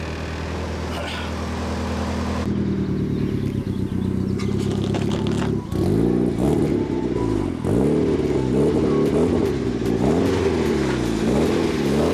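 A turbocharged Mazda Miata engine idles cold, loud and close, with a steady throbbing drone. Its pitch wavers and swells in the second half.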